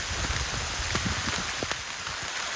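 Rain falls outdoors on a hurricane day along the Blue Ridge Parkway, a dense close patter of drops on surfaces with scattered louder splats over a steady wash.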